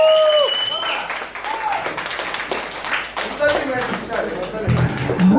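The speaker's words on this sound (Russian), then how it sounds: "Давайте все вместе поаплодируем" Live concert audience applauding a performer in Bucharest, steady clapping that swells and holds throughout, with shouts and cheers rising from the crowd and a few brief tones at the start.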